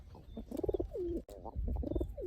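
A wild pigeon coos close by, a few soft, throaty rolling calls in quick succession with a brief pause midway, clear and alone.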